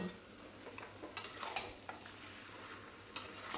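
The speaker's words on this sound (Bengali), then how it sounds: "আলুগুলো দিয়ে দেবো দিয়ে মাংসর সাথে আর একটু কষে নেব" Pre-fried potatoes stirred into mutton in a pan, soft sizzling under a few sharp scrapes and clinks of a spoon against metal, close and fairly quiet.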